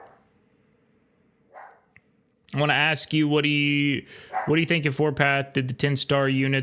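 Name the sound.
dog barking in the background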